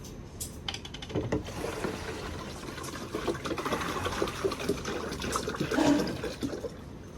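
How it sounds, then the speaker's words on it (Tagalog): Water pours steadily into a container of food for several seconds, a continuous splashing gush with a few light clinks nearby. "Pati tubig. Ito, sasalinan na natin."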